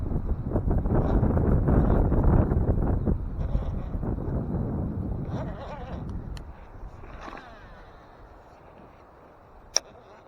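Strong, rushing wind gusting around 30 miles an hour outdoors while fishing buffets the microphone with loud gusts that gradually ease, leaving a quieter breeze and a sharp click near the end.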